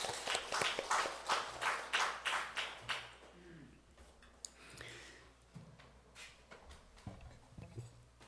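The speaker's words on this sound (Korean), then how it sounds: "우리 하나님께 영광의 박수 올리겠습니다" Faint, quiet clapping from a church congregation during a Sunday service. About eight rhythmic claps in quick succession, then fading into scattered soft taps and small room noises.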